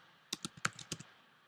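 Several quick keystrokes tapped on a computer keyboard, about seven soft clicks in an uneven burst lasting under a second, close and quiet, with no talking.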